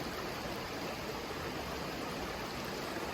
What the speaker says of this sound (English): This is below the falls. This is a stream.